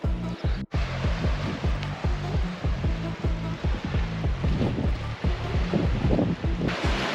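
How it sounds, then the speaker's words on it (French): Waves washing into a small clear-water cove near Paphos, Cyprus, a continuous loud surf rush with rhythmic lapping surges and some wind buffeting the microphone. "Ça fait comme une petite crique avec de l'eau transparente."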